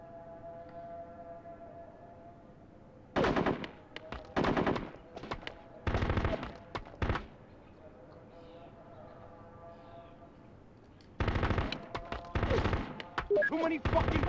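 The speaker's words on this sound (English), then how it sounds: "Too many fucking bullets over here!" Heavy machine gun fire in the PS2 game Full Spectrum Warrior comes in several loud, sustained rattling bursts separated by quieter gaps, with a faint siren-like tone sounding underneath.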